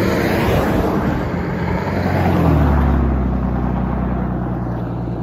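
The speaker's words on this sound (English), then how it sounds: "Here we go, we can see some trucks whizzing by." Trucks whiz past on a road next to a construction site, a loud continuous roar of engines and tires that swells and shifts in pitch as vehicles pass close by, with no talking.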